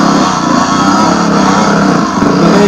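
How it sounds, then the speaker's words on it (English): A big four-stroke enduro motorcycle revs hard and steadily while its wheel digs into deep ruts on a trail, the loud engine droning close and continuous with no talk. "Big four-stroke, digging a hole just like them all here."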